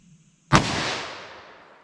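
A 10mm revolver fires a single sharp shot that cracks loudly and rolls off in a decaying echo lasting over a second, with nothing else around it.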